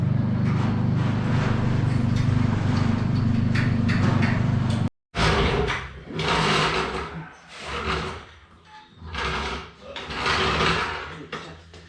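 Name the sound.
jack being placed under the front of a car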